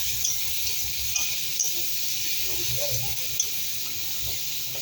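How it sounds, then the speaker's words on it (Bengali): Cabbage and coriander leaves stir-fried in a pan, giving a steady close sizzle with soft scraping from the stirring and a faint voice underneath. "ধনে পাতা দিয়ে একটু ভালো করে ভুনে নিই।"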